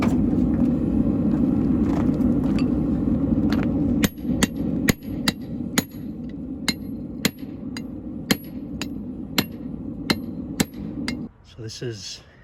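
Hand forging an axe, a hammer punching the eye through hot steel: a steady rumbling background, then a regular series of sharp, ringing hammer strikes about every half second, near and loud.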